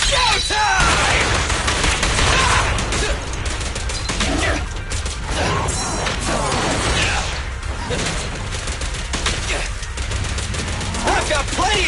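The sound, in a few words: gunfire in the video game Zenless Zone Zero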